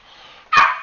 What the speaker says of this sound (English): That was my dog barking in the background.